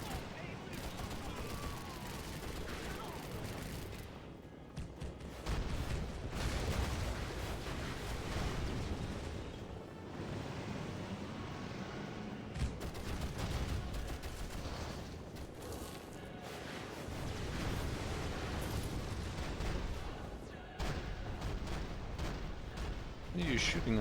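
Real-time strategy battle in Rise of the Reds, a mod of Command & Conquer Generals: dense, continuous gunfire and booming explosions fill the whole stretch, with heavy low rumbles swelling and fading throughout.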